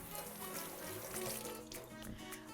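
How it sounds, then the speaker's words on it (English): Water runs steadily from a tap over hands being rinsed after garden work, a continuous splashing stream that stays fairly close and even throughout. "I'm gonna rinse my hands off."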